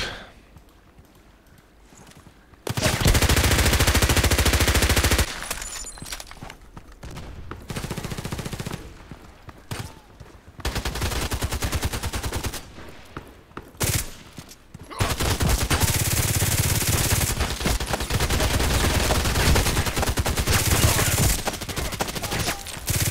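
Rapid automatic fire from a Glock 18 machine pistol in the online shooter Contract Wars, loud bursts of several seconds each separated by short gaps, with clattering game action between them.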